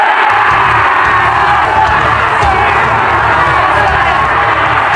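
Toman gang members in the Tokyo Revengers 2 film cheer and shout together as a crowd, a loud, continuous roar that holds steady without a break.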